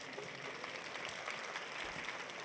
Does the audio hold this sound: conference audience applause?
yes